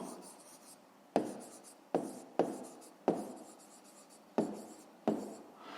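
A pen writing out a fifth-grade math exercise solution on paper, with steady scratchy strokes broken by a series of sharp taps, close and fairly quiet.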